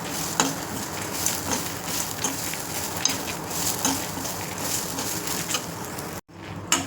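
Peanuts and spices dry-roasting in a pan for bisibelebath masala, a steady dense crackle and sizzle with repeated stirring scrapes, loud and close, ending abruptly.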